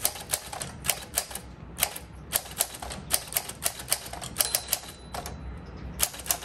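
Typing on a 1946 Smith Corona Speedline typewriter gives a run of crisp, close key strikes in an uneven rhythm, some in quick clusters, with occasional mechanical clunks between them and no talk.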